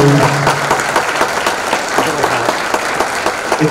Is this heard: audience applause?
yes